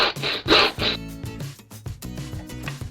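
Close-up rasping strokes of a round file against a reclaimed pallet-wood horn's mouthpiece, a few rough bursts followed by quicker, lighter scraping passes in an uneven rhythm.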